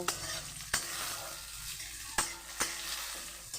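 Cumin seeds lightly frying in a pan while being stirred, a steady close sizzle broken by a few sharp spoon knocks against the pan, with no talking.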